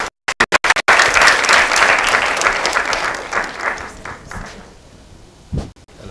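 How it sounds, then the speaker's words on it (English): An audience on a stage show breaks into applause after a few sharp isolated claps, swelling into a dense, steady round of clapping that tapers off over several seconds, with a couple of last claps at the end. "A round of applause for him, please."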